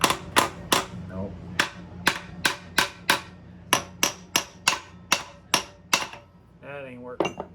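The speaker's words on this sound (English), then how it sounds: "Let's try hammering it in." Repeated sharp metal hammer strikes driving a tight-fitting differential part into place, about a dozen loud, evenly spaced blows, with a brief squeaky whine of movement near the end.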